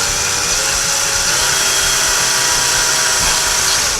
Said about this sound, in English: And now we're going to drill very slowly